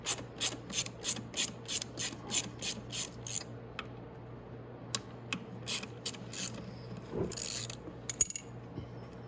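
Ratchet wrench backing out 10 mm bolts on the side cover of a Venom x22GT 250cc automatic motorcycle: a quick run of evenly spaced clicking strokes close up, then a pause and a few scattered clicks with metallic handling noises, no talk.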